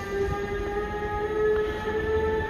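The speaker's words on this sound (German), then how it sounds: "So, und Regionalbahn 41 hat Ausfahrt" Regional train Regionalbahn 41 pulling out of a station in Hamburg, a steady rumbling roll with faint squealing tones held throughout, close and continuous with no voices.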